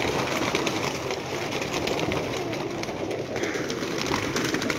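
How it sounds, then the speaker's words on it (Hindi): Several pigeons coo softly on a rooftop, a continuous low burbling under steady outdoor ambient noise. "देखो कबूतर"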